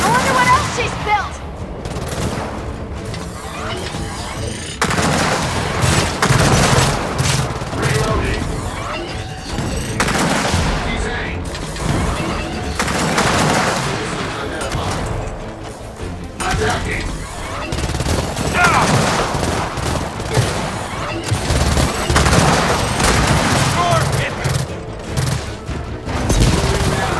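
Gunfire in the Gears of War 4 shooter game, dense repeated shots and booms rolling through the whole stretch, with sniper fire among the combat noise and voices speaking over it.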